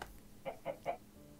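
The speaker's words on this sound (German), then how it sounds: "Ich höre einen Huhn." In Minecraft, three soft, quick chicken clucks in a row, faint and evenly spaced.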